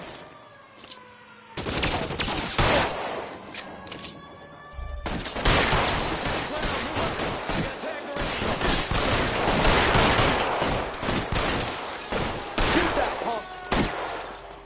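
Rapid bursts of gunfire in the video game L.A. Noire, sharp repeated shots and volleys cracking over a dense, loud mix of crashes and impacts, with a brief quieter gap before the firing resumes and carries on throughout.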